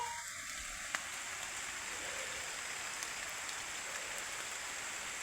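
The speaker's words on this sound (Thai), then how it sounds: "ฝนก็ ตกมาเลยนี่ก็ มายังไหลอยู่นะพีก" Steady rain falling outdoors, a dense continuous hiss of drops with a few louder splats, even and unbroken throughout.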